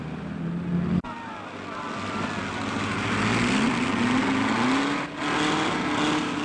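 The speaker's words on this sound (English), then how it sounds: "The next group of cars will be starting the hill climb in about 15 minutes' time" A 1960s car climbs a hill-climb course, its engine rising steadily in pitch as it accelerates and shifts through the gears, loud and close after a brief cut.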